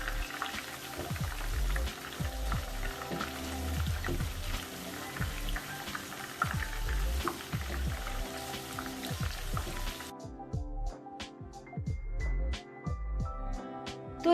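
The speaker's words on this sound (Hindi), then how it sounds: "बहुत ही लाजवाब से जो है ये फ्राई हो रहे हैं" Seasoned chicken pieces deep frying in hot oil for crispy Dhaka chicken, a dense, close crackling sizzle with popping bursts that thins to sparser spitting pops near the end.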